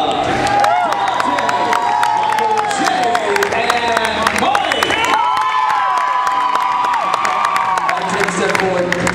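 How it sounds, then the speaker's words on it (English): A live audience at a Fear Factor stunt show cheers and applauds, with shouts, whoops and children's voices over clapping, while an amplified voice talks through it. "All right, audience, keep your applause going. Let's make some noise for Rosa."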